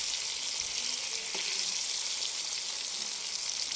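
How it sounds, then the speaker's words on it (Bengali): Tomatoes frying in hot oil in a pan, a steady dense close sizzle and crackle filling the whole stretch, loud and even with no talk. "সুন্দর করে নেড়ে ছেড়ে তেলে ভেজে নিচ্ছি।"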